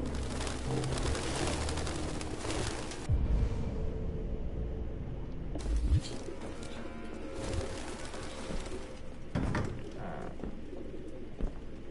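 Pigeons cooing nearby, a low rounded coo repeated over a rumbling background with some mechanical clatter and shifting noise.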